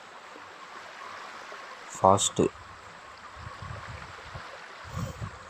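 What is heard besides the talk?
tsunami water flowing in Roblox video game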